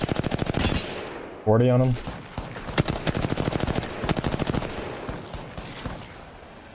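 Apex Legends gunfire: rapid automatic bursts and repeated shots ring out loud and close, with a brief electronic tone near the start, while a player talks over the shooting.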